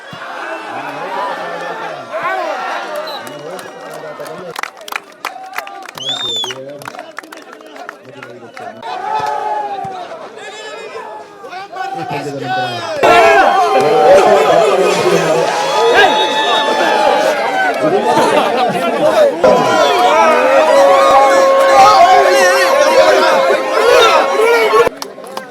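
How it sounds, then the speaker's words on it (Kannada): A crowd at a police sports match chatters and cheers, a quieter patchy murmur in the first half that swells into a loud, dense roar of voices and shouts in the second half. "ಸದ್ದು ಗದ್ದಲ, ಹರ್ಷೋದ್ಗಾರ"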